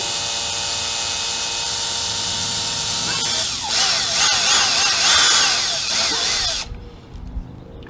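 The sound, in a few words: drill running while working on a Honda CB750F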